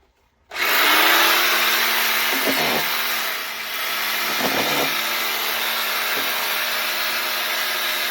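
A power tool cuts through a plastic drain pipe from a blocked septic drainage system, starting abruptly with a loud, steady broadband roar that continues alone for several seconds with slight dips in pitch.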